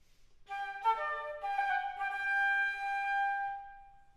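A solo melodic instrument plays a short ornamented Baroque trill with an appoggiatura and anticipated termination, a rapid trill settling into a held note that rings and fades.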